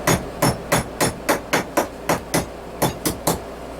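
Ball peen hammer beating wrought iron at a steady pace, about a dozen sharp ringing blows close by, evenly spaced with no talking.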